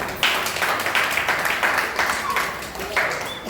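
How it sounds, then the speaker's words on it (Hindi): Church members clap for a brother in a brief, moderately loud round of applause with scattered individual claps, and some voices blend into the sound. "भाई के लिए तालियां बजाएंगे"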